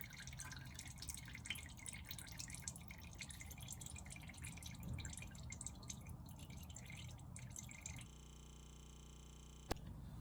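Engine oil drips and trickles as it drains from a Mitsubishi Outlander V6 3.0 during an oil change. The faint, steady liquid patter runs for several seconds, then cuts off abruptly, leaving a quiet hum.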